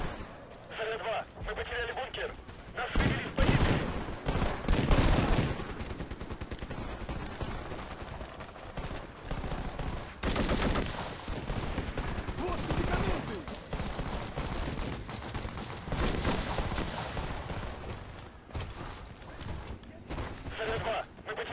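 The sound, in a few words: rifle gunfire in PUBG, video game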